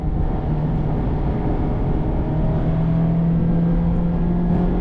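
A Mazda MX-5 Miata ND3 engine heard from inside the cabin with the windows up, merging onto a track: a steady, loud droning hum whose tone slowly climbs, with no talking.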